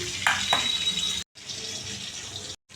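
Bottle gourd stirring in hot oil in a wok, a steady broadband hiss with a couple of brief scraping stirs near the start, close and continuous with two short breaks.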